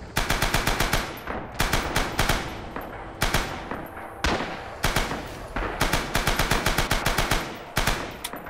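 Machine gun fire in the video game Rising Storm: rapid, loud bursts of automatic shots in a steady rhythm, broken by short pauses between volleys, with no voices.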